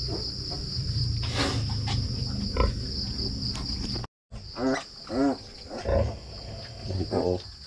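Pigs on a Filipino farm give several grunts and short squeals in bursts, moderately close, over a steady whine of crickets and insects.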